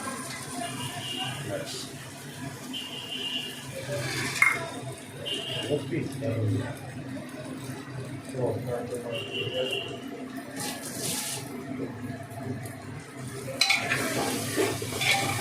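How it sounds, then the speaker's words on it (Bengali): Marinated spice masala for mutton is stirred and fried in a pot, with a continuous low sizzle and repeated scraping and clinking of a spoon against metal while people talk throughout. "ভালো করে মিশিয়ে নেওয়া হবে এই মশলাটাই এখন ভাজা হবে"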